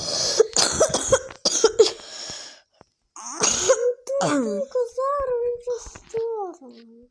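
A child coughs several times in quick bursts, followed by a young voice speaking with rising and falling intonation.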